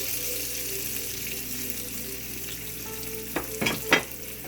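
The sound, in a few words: sliced onions frying in hot pan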